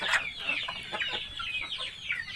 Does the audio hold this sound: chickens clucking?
yes